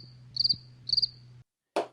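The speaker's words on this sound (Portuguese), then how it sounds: "Vou botar o grilo para zoar." A cricket chirping sound effect: two short, bright trill bursts over a low hum, followed by silence and a brief noisy click.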